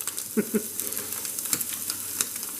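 Liver frying in a pan on high heat, a soft crackling sizzle with scattered pops and a few light stirring knocks, faint and close, no talking.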